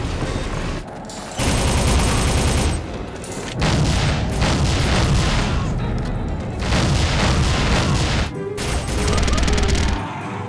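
Heavy weapon fire in a first-person shooter game made in 2000, loud repeated booming bursts in long sustained volleys separated by brief pauses.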